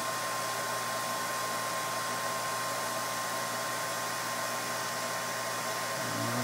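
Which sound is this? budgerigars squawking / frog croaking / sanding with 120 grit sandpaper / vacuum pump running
vacuum pump running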